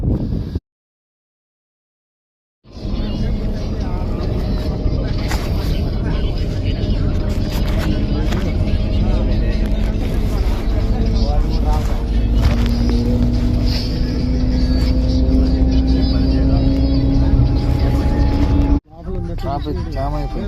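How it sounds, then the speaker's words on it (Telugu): Vehicles in a road traffic jam make a steady, loud rumbling engine drone with passing hums, running continuously after a brief silence and cutting off near the end. "ట్రాఫిక్ జామ్ అయిపోయింది"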